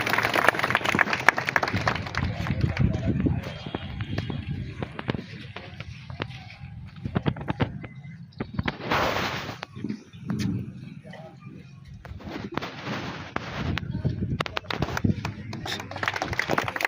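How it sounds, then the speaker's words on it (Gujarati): An audience at a public event applauds, with steady, dense clapping that carries on through most of the stretch and a spoken voice heard over it at points. "આપણે સૌ તાળીઓના નાદથી વધાવીએ."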